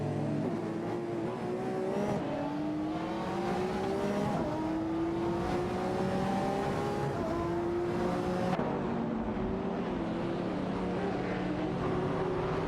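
Race cars in an AI-driven racing video game, including a Mercedes SLR McLaren and an Audi, roar continuously with rising engine notes through repeated gear shifts, loud and close throughout.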